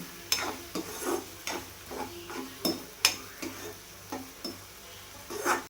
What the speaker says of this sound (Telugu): కొద్దిగా కొత్తిమీర, వేసుకొని కొద్దిగా ఫ్రై చేసుకుందాము